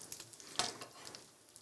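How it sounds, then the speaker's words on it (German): Dumplings (Knödel) fry in butter in a pan on a stovetop, making a soft, steady sizzle with faint crackles and one brief, louder spit, close by and not under speech. "Im Butter noch anbraten, auf beiden Seiten."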